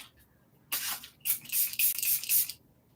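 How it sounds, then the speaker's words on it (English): Super Hold setting spray misted onto a face, heard as several close, loud aerosol hisses in short bursts over roughly two seconds, with no talking. "Now spray your face and you're good."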